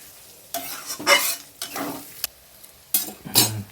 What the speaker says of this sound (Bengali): আর ডিমটা সবজির সাথে একটু ভেজে নিতে হবে